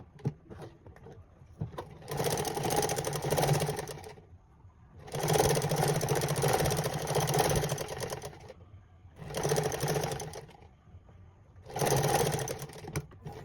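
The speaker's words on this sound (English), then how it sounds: "Then I'll sew it." A sewing machine stitching tailored short pants, running in four separate bursts of rapid mechanical whirring with short quiet pauses between them, close and clear.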